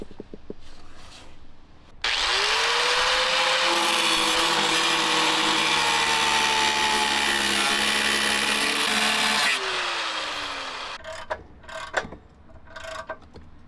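A power tool cuts an opening to fit the shifter during a transmission swap on a Toyota Soarer fitted with an R154 gearbox. Its loud motor whine starts abruptly, holds steady for about seven and a half seconds with slight pitch changes, then winds down, followed by clattering handling sounds.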